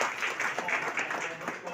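An audience at an Ambedkar Jayanti gathering of a tribal society in Jharsuguda breaks into steady applause, a dense wash of clapping heard close and sustained, with a voice over it.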